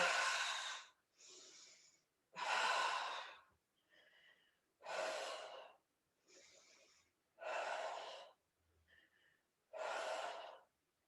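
Strong breaths during a pilates ab curl, loud close exhales alternating with softer inhales in a steady rhythm, with no talking between them.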